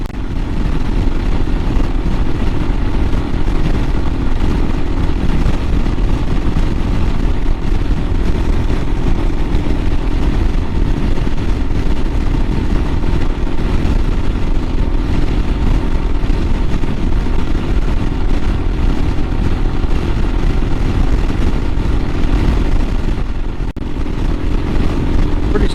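A 2022 Royal Enfield Himalayan motorcycle engine climbing a steep hill at around 70 with throttle to spare, a loud, steady, unbroken drone that holds for the whole stretch with no pauses.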